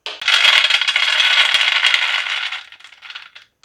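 Hot roasted chickpeas pour from a pan into another vessel in a loud, dense rattling cascade of small hard grains for about two and a half seconds, then thin out into a few scattered clinks and stop.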